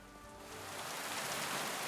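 Rain falls in Kingdom Come: Deliverance 2, a soft steady patter on surfaces that swells slightly over two seconds, with no voices.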